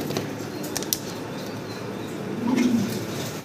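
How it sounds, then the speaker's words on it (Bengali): A pair of Maltese pigeons close by, with soft fluttering and light rustles, then a low cooing call near the end over faint background noise. "আমরা এক জোড়া মাল্টেস কবুতর দেখতেছি ভাইয়ের কাছে"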